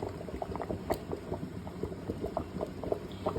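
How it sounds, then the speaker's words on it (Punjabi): Mustard greens (sarson saag) bubbling in a boiling pot, a steady stream of small pops and blips, close by with no talking. "ਦੇਖ ਸਕਦੇ ਆਪਣਾ ਸਾਗ ਰਿੱਝਣ ਡਿਆ ਵਾ"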